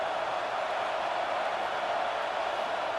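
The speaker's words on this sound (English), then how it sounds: "The crowd is roaring, trying to help this defense on 4th down." Steady, loud roar of a stadium crowd in an NCAA 26 college football video game, Alabama versus Texas, rising on a 4th-down defensive stand; a continuous broadband wash with no breaks and no talk over it.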